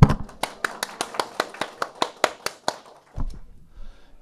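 Audience clapping in rhythm for a lecturer at a real-estate licensing exam prep class, a dozen sharp, evenly spaced claps over about three seconds, followed by a brief low thump and quiet.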